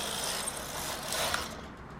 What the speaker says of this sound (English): I'm pushing the carriage further than it needs to go to make sure to trip the row counter